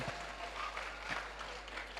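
Audience applause rises at a workshop with a doctor as speaker, a brief, fairly faint patter of many hands clapping in a room.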